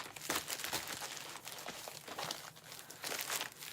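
A plastic bag crinkles and rustles steadily as it is handled up close, with irregular crackling bursts and no talk over it.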